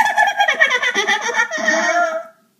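A Halloween witch cackle sound effect played dry from a CD, a high, fast run of giggling laughter lasting about two seconds that cuts off abruptly into silence.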